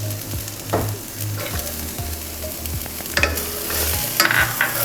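Garlic stirred into soft caramelized onions in a pan, a steady sizzle with repeated knocking scrapes of a spoon against the pan bottom.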